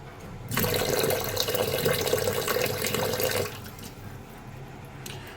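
Tap water runs steadily into a sink or bowl where fish is being soaked, a close, even gush lasting about three seconds before cutting off, leaving a quiet room with faint clinks.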